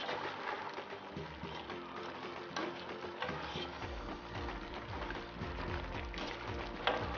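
Potatoes and cauliflower being mixed into vegetables in a pan, a muffled continuous scraping and stirring with soft clatter of a spoon, close and steady with no voices.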